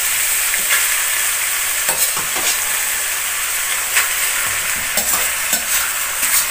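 Rigatoni in Bolognese sauce is stirred and reheated in a hot buttered pan, giving a loud, steady sizzle with repeated scraping, clattering stir strokes and no talking.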